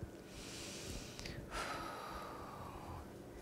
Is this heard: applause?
no